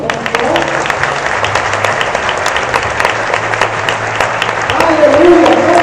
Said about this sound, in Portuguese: aplaudir o Senhor?